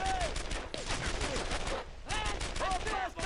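Covering gunfire in the WWII shooter game Brothers in Arms: Earned in Blood crackles in rapid, overlapping bursts, loud and continuous with a brief lull midway.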